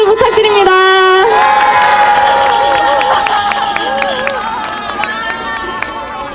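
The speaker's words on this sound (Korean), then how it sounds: "힘찬 박수 부탁드립니다." A crowd at an outdoor rally cheers and applauds loudly, with shouts and whoops over dense clapping and a strong melodic voice-like cheer standing out at the start, sustained throughout.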